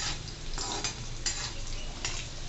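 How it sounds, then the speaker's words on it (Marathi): Garlic sizzles steadily in hot oil as a tempering for a cabbage stir-fry, with a dense frying hiss and a few brief scraping stirs of a spoon in the pan. "लसूण चांगला आपण गुलाबी होऊ द्यायचा त्यातला"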